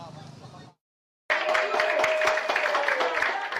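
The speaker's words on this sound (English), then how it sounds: "Residents and descendants of Balangiga warriors cheer and applaud the arrival of the Balangiga bells at Villamor Air Base in Pasay City" Residents and descendants of Balangiga warriors cheer and applaud the arrival of the Balangiga bells at Villamor Air Base in Pasay City, a dense crowd of rapid clapping and cheering that bursts in after a brief silence, following a short stretch of voice.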